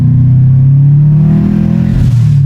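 A Subaru WRX engine drones loudly at high revs under full throttle, a deep sustained exhaust roar that climbs slightly, very close and continuous.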